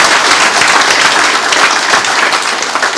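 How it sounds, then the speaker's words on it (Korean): Loud, sustained applause from an audience at a company headquarters relocation ceremony in Hamchang, steady dense clapping filling the whole stretch without a break. "저와 같은 생각을 가지면 한번 큰 박수로 격려해 주십니다"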